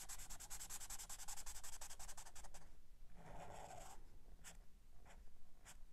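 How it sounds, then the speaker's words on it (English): A black marker scratches and rubs across paper while drawing a sleeping arctic fox, giving quick rhythmic strokes followed by slower, softer coloring-in, faint and close with no talking. "I'm using a black marker"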